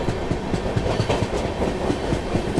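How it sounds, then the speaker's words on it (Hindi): Tamil Nadu Express 12622 running on rails just after leaving Mathura Junction, a loud steady clickety-clack of wheels over rail joints with rapid rhythmic clunks over a continuous rumble. "अपनी ट्रेन निकल चुकी है मथुरा जंक्शन से, और भाई निकलते ही क्या ही तो रफ्तार बनाई है"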